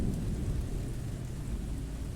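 Steady rain pours with a low rumble of thunder underneath, a constant dense hiss with no breaks, in a spooky setting.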